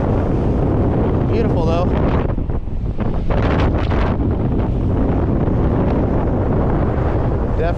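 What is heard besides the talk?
strong wind blowing on a beach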